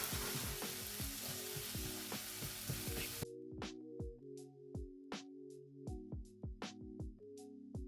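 Chopped onion and garlic sizzle steadily in a hot pan, a dense frying hiss that drops away partway through, leaving quieter intermittent sizzles and scraping stirs.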